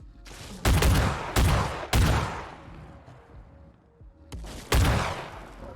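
A fully upgraded buckshot shotgun from a Fallout 4 mod fires five heavy blasts in an uneven rhythm, each sharp, loud and close, with short decaying tails and quieter game noise between.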